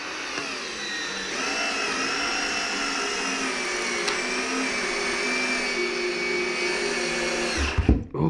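A power screwdriver whirs steadily at high speed for several seconds driving a screw into a workbench, its motor pitch shifting slightly, then winds down with a few clunks at the end.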